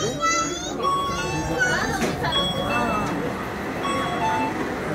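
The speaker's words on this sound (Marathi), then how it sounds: "आणि ही आली आमची मोनो ट्रेन" Dubai monorail train arriving at a station, a rising electric whine and rolling rumble under nearby chatter and children's voices.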